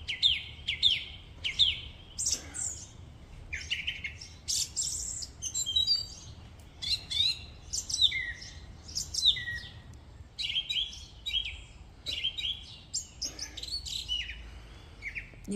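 A small bird chirps loudly and repeatedly in bright, sharp bursts, calling close by with short pauses between phrases.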